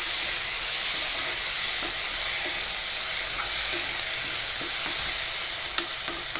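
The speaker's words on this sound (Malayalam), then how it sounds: "ഇനി ഇതൊന്ന് നന്നായിട്ടൊന്ന് മിക്സ് ചെയ്ത് കൊടുക്കാം" Masala fries and sizzles in a pan with a steady hiss while it is stirred, and a few light scraping clicks come through near the end.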